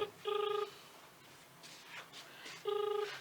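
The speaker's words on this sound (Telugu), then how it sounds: "అందశ్రీ సార్ ఫోన్ చేస్తున్నాడు," Telephone dialing tones, two short steady electronic beeps nearly half a second each, separated by a quiet stretch of faint background murmur.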